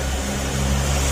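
A Honda Click 150 scooter engine running after ECU troubleshooting, giving a close, loud, steady idle hum with an even low throb and no speech over it.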